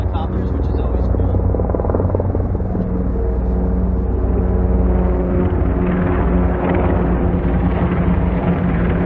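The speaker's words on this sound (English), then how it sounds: "the U.S. Army is out here doing a little training today with their Apache Longbow helicopters" Heavy rotor thumping and a deep engine roar fill the air continuously, loud and close, as a U.S. Army Apache Longbow military helicopter passes on a training flight with a strong low rumble.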